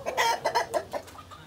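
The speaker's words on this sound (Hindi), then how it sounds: "ये मतलब देसी टाइप की मुर्गियां हैं ये।" Desi-breed chickens on a farm cluck in a quick series of short calls, fairly close and loud, with no talk over them.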